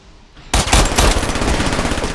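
Gunfire from a weapon in Batman Arkham Origins online multiplayer breaks out loud and sudden after a quiet start, then keeps going as a dense, continuous burst of shots for the rest of the clip.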